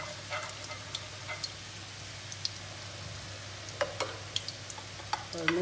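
Ghee and oil heat in a pot for cooking biryani, giving a soft, continuous sizzle with scattered small pops and a few louder crackles toward the end, with no talking.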